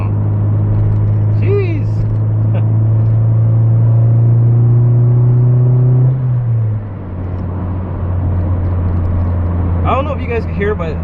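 A Honda Del Sol fitted with a carbon intake drives along, its engine droning steadily, then dropping pitch as it shifts, with people talking over it inside the car.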